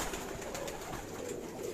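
High-flyer pigeons in Karachi coo softly in a repeated pulsing rhythm, close by and steady, with no talking.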